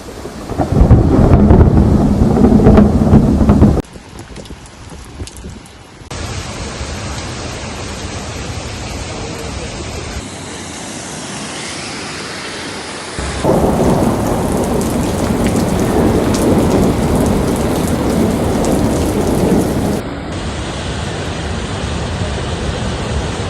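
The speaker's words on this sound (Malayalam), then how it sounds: "യു എയിൽ ചൊവ്വാഴ്ചയും ശക്തമായ മഴയും ഇടിമിന്നലും തുടരുകയാണ്" Heavy rain pours down in a loud, dense roar with deep rumbles of thunder in the UAE, shifting abruptly in intensity across several stretches.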